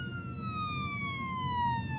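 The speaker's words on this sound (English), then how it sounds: "As the sirens grew louder" A siren in the video game Jenny LeClue wails steadily with a slowly falling pitch, fairly distant and faint over a low rumble of background noise.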